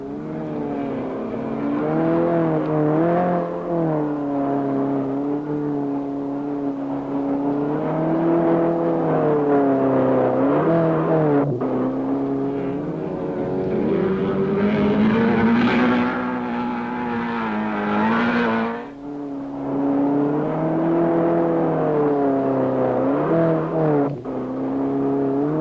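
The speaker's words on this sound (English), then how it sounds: "we take time off to look over the shoulder of Bertie Sayers as he takes his winning special round the track" A 1966 special race car circles a dirt autocross track, its engine loud and close, revving up and down through gear changes with a steady droning tone that swells and dips for the whole stretch.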